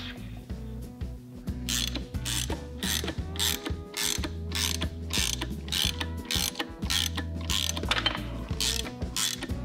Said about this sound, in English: Down until you hear a click. Oh, nice ratcheting.